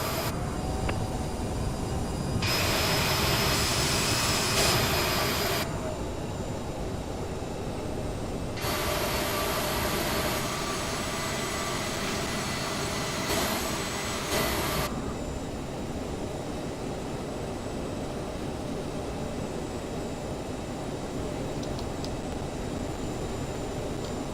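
Jetstar jet airliner rolling on the runway after landing, a steady broad engine roar with two bursts of brighter high whine, heard fairly close and continuous without talk.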